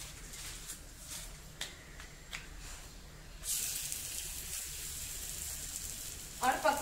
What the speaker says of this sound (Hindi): घी गरम हो चुका है, अभी मैं पराठा डालूंगी।